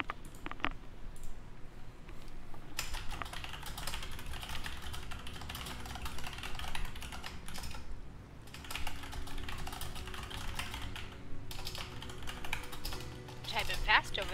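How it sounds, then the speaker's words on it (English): Fast, continuous typing on a computer keyboard runs throughout, with a dense patter of key clicks during a gaming session, and faint voices can be heard in the background. "Typing fast over there."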